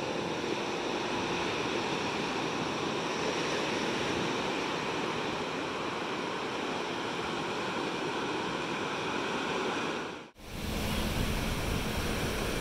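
Ocean surf washes onto a rubbish-strewn beach near rocks on the Padang coast, a loud continuous roar of breaking waves with a brief dip in level near the end.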